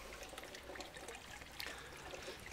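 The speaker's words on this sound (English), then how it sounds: "overflows down the drain." Rainwater from a garden pond overflows into a drain, a faint continuous trickle and splash of running water heard alone at low level.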